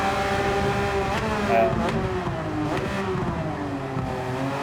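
Porsche race car in a racing video game, its engine revving steadily with shifting pitch over worn, dying tyres, a continuous loud drone through the whole stretch.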